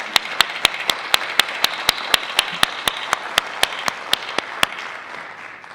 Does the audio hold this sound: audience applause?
yes